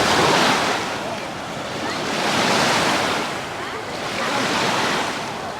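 Sea waves wash onto the beach at Palmanova in steady, broad swells of surf that rise and fall roughly every two seconds, loud and close, with wind buffeting the microphone.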